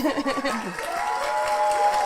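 Applause and light cheering from a small audience right after a live song performance on a podcast set, steady and moderate under a speaking voice.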